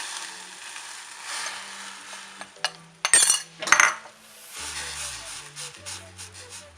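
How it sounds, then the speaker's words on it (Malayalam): Maida stirred into boiling water in a pot with a wooden spoon, giving soft scraping and sloshing sounds over a low simmering hiss, with a few louder clatters midway. "നന്നായിട്ട് ഒരു തടിത്തവി വെച്ചിട്ടോ എന്തെങ്കിലും ഒരു തവിയുടെ തണ്ട് വെച്ചിട്ട് നന്നായിട്ട് ഇളക്കി കൊടുക്കണം"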